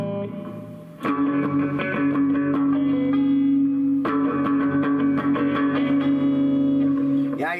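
An electric guitar plays through a Fender amp set with master volume turned up to 10 for a drenched surf reverb tone, loud sustained chords ringing with echo tails, restruck after a brief pause.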